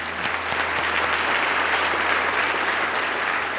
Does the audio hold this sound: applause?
yes